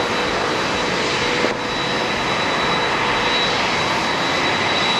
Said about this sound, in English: we've got our first incoming flight. And it is coming in from Jinbei, and it's a Korean in the new livery.